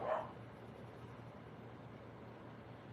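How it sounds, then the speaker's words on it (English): A dog in another room barks once, faint and distant, at the very start, then only low room hum remains. "he's in there acting a fool, barking at God knows what"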